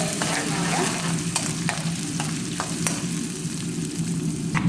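Mustard seeds, onion, green chili and garlic fry in a hot pan for tempering, giving a steady close sizzle broken by a few sharp clicks of stirring.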